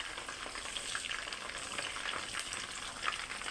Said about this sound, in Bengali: এখন আমি উল্টে উল্টে ভেজে নেব।